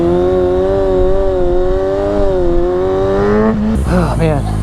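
Kawasaki 636 sport motorcycle engine held at high revs, loud and close, a steady droning pitch that wavers slightly before a sharp shift near the end.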